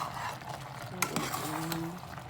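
Spoon stirring jackfruit and chili in a frying pan, with soft sizzling underneath and a couple of sharp utensil scrapes and clinks against the pan, close and fairly quiet.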